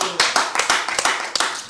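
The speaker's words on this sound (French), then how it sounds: "Donc on acclame le Seigneur." A congregation claps in an even, rhythmic beat at a church service, a brief burst of steady applause with no talk over it.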